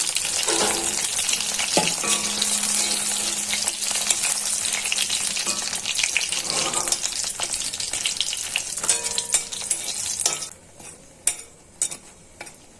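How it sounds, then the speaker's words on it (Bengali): Steady, crackling sizzle of chili peppers frying in hot oil, continuous and close, with occasional stirring clinks and the sizzle thinning toward the end. "এখন মরিচটা ভাজা নিতেছি"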